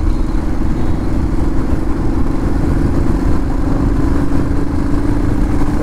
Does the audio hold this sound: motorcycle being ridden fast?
yes